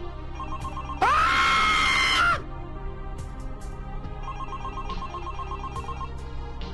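A telephone suddenly rings in a loud, bright burst lasting just over a second within a spooky Halloween scene. Fainter repeated ringing tones follow over a low, steady hum.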